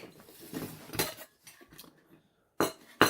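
Kitchen utensils and dishes clink at a tent camp, several sharp metallic clatters in irregular bursts with quiet gaps between them.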